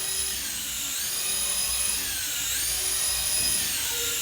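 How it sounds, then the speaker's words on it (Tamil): A toy helicopter's small rotor spins with a steady high-pitched whine whose pitch rises and falls twice as it speeds up and slows down, fairly close and continuous, with no voices. "ஹெலிகாப்டர் வந்து ஒரு கண்ட்ரோலாக போகுது."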